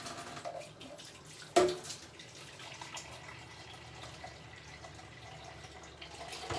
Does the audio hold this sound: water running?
yes